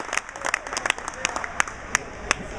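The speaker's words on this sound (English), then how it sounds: "Listen to the round of applause for a brand new scratch champ" A crowd applauds a new scratch champion at a tournament with a scattering of sharp, uneven claps from a modest group while a voice talks over them.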